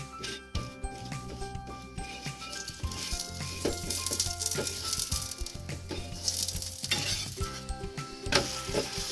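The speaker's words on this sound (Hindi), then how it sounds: "इसको हम घी से सेकेंगे।" A paratha fries in ghee on a hot pan with a soft continuous sizzle, while a utensil clatters and scrapes against the pan in irregular knocks and taps close by.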